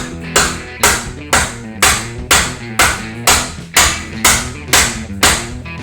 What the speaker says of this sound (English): I've had to hammer a screwdriver up there